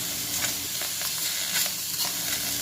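Chopped tomatoes sizzle in a pan with sautéed garlic and onion, cooked without oil, a steady close hiss broken by soft crackles and spatters, no voices.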